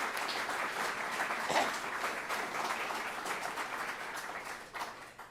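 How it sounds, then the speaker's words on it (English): A group applauding the chefs at a community cookout gathering, producing a soft, continuous wash of clapping at moderate distance that tapers off near the end. "I would like to give a round of applause to our chefs."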